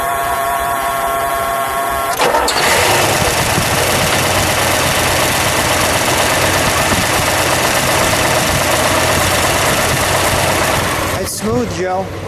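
A 1970 Chevrolet Chevelle LS6 454 V8 cranks briefly and catches, then settles into a loud, close, steady idle with a rapid throbbing pulse, ending with a rev near the end.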